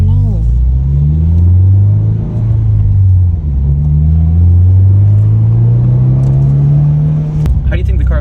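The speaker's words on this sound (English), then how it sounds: "How do you think the car sounds?" A 2022 BRZ or Civic Type R engine hums steadily on a road trip, its pitch rising and falling in smooth sweeps of revving, with a brief sharp knock near the end and no talk over it.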